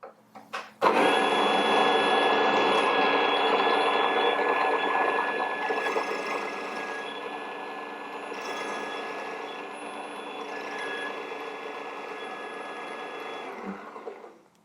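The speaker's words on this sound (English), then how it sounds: "On this grinder, I am hearing a change in noise at about setting 2H." A Baratza Vario coffee grinder's motor starts abruptly after a click and runs with a loud, steady whine and high tonal hum, easing slightly partway through before cutting off near the end.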